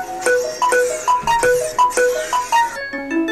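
Phone ringtone playing a bright, repeating melodic chime, loud and clear, with no talking.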